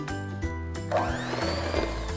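Peach crumb cake batter being mixed briefly in a stand mixer as half the dry ingredients go in, a steady motor hum with a loud whirring churn that swells midway, close up and uninterrupted by talk.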